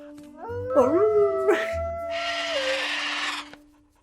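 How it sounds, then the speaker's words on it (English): A dog howls in the animated film Up, a long wavering tonal howl with rising and falling pitch, followed by a burst of broadband noise near the end. "And here's howling."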